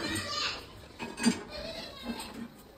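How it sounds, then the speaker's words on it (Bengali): Dishes being washed, a few faint clinks and clatters of utensils spaced apart in a quiet room. "এখন বাসন মাজবো"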